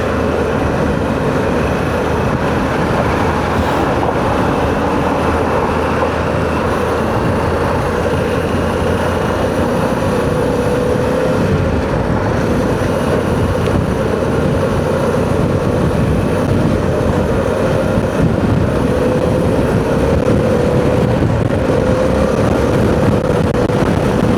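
A Harley-Davidson Pan America CVO cruises on a highway with a steady loud drone of engine and wind roar, unbroken throughout, and no talking.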